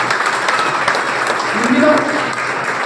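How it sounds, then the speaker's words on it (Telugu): Applause from a seated audience at a Vestige business meeting welcoming the chief guest, steady broad clapping under a murmur of crowd noise. "సార్ మేడం కోసం గట్టి క్లాప్స్ కొట్టాలి సార్"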